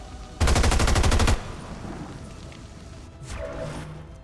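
A loud automatic burst of rapid gunfire from XCOM 2 rattles for about a second, then fades into lower rumbling game ambience.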